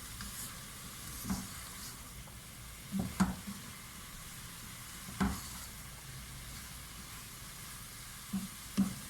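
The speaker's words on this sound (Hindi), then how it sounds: "अब अंडा इसमें डाल देते हैं हम, हल्के हाथ से इसे मिक्स कर देते हैं।" Egg being gently mixed into lightly fried vegetables in a pan for Chinese rice, with a faint continuous sizzle and a few soft spatula scrapes and taps at scattered moments.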